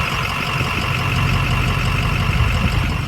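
An engine idles rough with a broken valve spring, a loud close steady rumble with an uneven, lumpy pulse running under it and no talking.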